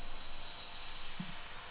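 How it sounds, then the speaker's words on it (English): A steady, bright white-noise hiss effect from a pop remix production, held evenly throughout and fairly loud, with no other sounds alongside. "And also this white noise."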